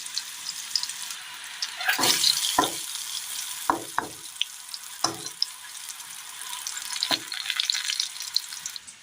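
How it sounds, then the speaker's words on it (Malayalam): Brinjal pieces frying on a low flame for a Kerala recipe, a steady close crackle of hot oil broken by several sharp scrapes and knocks of a spoon against the pan, with no talking. "ഇത് ചെറു തീയിൽ വെച്ച് നമുക്കൊന്ന് വറുത്ത് കോരിയെടുക്കണം"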